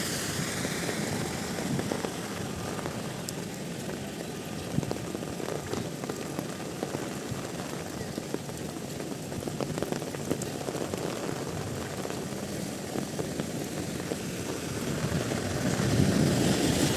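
Heavy rain pours steadily onto a hard surface, a dense continuous hiss with scattered drips, growing slightly louder near the end.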